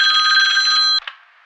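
An old telephone bell ringing loud and close in a steady trill for about a second, then cutting off abruptly with a brief clunk.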